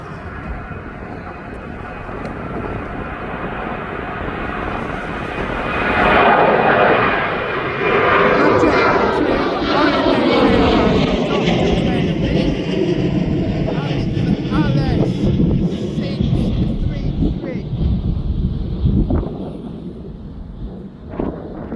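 A Jet2 airliner takes off at East Midlands Airport with a loud, sustained engine roar that swells after the first few seconds and holds steady, mixed with wind buffeting, while a voice talks over it.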